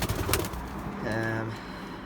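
A racing pigeon cooing close by, a soft, low, throaty coo that swells briefly after some rustling, while a voice talks faintly in the background.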